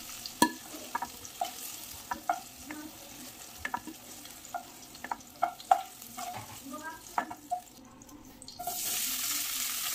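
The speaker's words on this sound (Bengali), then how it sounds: "ফুলকপিগুলো দিয়ে দিলাম। ফুলকপিগুলোকে একটু ভেজে নেব।" Cauliflower pieces fry in a pan of oil with a steady sizzle, broken by repeated sharp clinks and scrapes as a spatula stirs them; near and moderately loud, with a brief burst of running water near the end.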